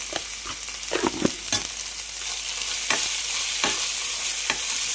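Ginger paste frying in hot oil in a pan for chicken curry, a steady close sizzle with intermittent scraping strokes of a stirring spoon, no talking.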